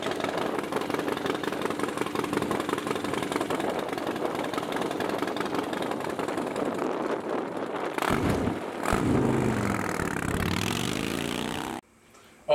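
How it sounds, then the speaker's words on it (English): A Harley-Davidson motorcycle engine idles and runs with a steady rumbling drone, fairly close, briefly fluctuating before cutting off near the end. "we're gonna go for a quick ride on the Harley"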